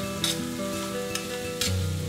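Ash gourd with grated coconut sizzles and fries in a pan, with a few sharp scraping stirs standing out over a steady close crackle.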